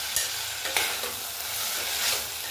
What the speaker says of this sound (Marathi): तर आता हे 2 मिनिटं 1-2 मिनिटं असंच परतायचं व्यवस्थित